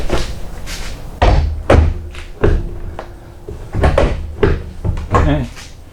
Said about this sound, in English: Let's close the hood up and see how well that latches.